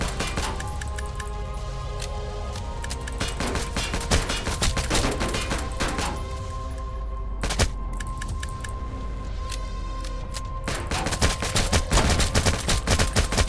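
Rapid gunfire rattles through a Roblox War Tycoon battle, dense bursts of shots crowding together with a few sharper single cracks, loud and nearly continuous throughout.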